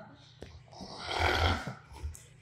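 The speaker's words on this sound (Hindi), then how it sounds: "उबासी ले रहा था" A pet dog gives a single drawn-out yawn with a soft, breathy, squeaky rise and fall, close by, in a quiet indoor home setting.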